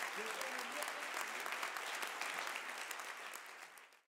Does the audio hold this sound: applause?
yes